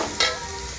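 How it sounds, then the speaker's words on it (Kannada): Cumin and mustard seeds hit hot oil in a home kitchen pan, giving a close, crackling sizzle that jumps up sharply at the start, then settles into a steady frying hiss with a faint ringing of the pan, no talking. "ಎಣ್ಣೆ ಹಾಕಿದ್ಮೇಲೆ ಜೀರಿಗೆ ಸಾಸಿವೆ ಹಾಕಿ"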